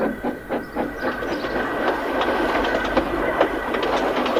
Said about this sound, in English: He just scoffed and wheeshed away, leaving Toby quite speechless.